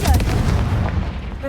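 The Confringo explosion spell goes off in Hogwarts Legacy on hard difficulty, a single loud, close, booming blast with a rumbling low-end tail that fades over about a second and a half.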